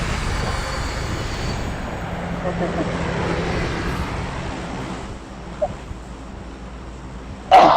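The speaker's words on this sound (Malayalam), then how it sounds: "ഫ്ലൈറ്റ് ആണ് സുഹൃത്തുക്കളെ ഇപ്പം യാത്ര ചെയ്തുകൊണ്ടിരിക്കുന്നത്" A steady airplane engine drone in the video game PUBG hums throughout, fading slightly near the end before a brief sharp noise.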